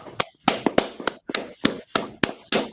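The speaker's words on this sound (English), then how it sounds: "All right, clap it up" A small group claps in loose, irregular bursts of sharp slaps, close and fairly loud with brief silences between volleys, at a church-style gathering.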